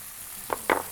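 Carrots, beans and peas sautéed in a pan with green chillies, a soft steady sizzle broken by two brief scraping stirs near the end.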